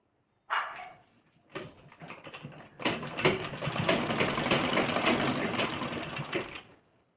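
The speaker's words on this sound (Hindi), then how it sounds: "उस तरह से हमें इस पर पूरे यहाँ तक सिलाई लगा लेंगे।" A sewing machine stitches a zipper onto a lehenga blouse: a short burst, then a brief whirring run and a longer steady stretch of rapid mechanical stitching, close and fairly loud.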